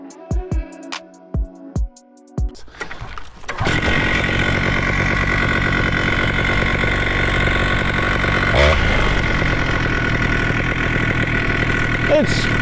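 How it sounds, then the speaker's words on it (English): A Moster paramotor engine idles too fast, a loud, steady buzzing drone that starts after a few sharp knocks and holds near and constant to the end, without any talking. "Now is the time to adjust the idle screw because the idle RPM is still too high."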